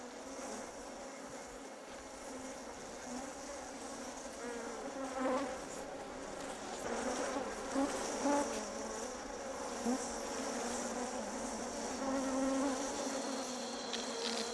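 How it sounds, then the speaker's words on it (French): Wild bees swarm a forest hive during a honey harvest by Baka Pygmies in Central Africa. Their steady, dense buzzing drones on throughout, moderately loud, with no talk. "Toutes les abeilles ne sont pas engourdies, loin de là."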